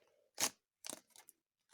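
Paper surprise package being torn open, a few quick crunchy rips and crinkles in close bursts with short pauses between them, no talking.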